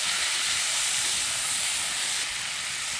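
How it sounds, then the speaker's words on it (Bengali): Prawns frying in oil over a low to medium flame, a steady broadband sizzle and hiss that holds evenly throughout, close and fairly loud, with no talking. "চিংড়ি মাছটা আমি লো টু মিডিয়াম ফ্লেমে ভালোভাবে ভেজে নিচ্ছি"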